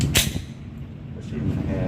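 A single sharp gunshot cracks close at an outdoor shooting range near the start, followed by a quieter tail and low background rumble.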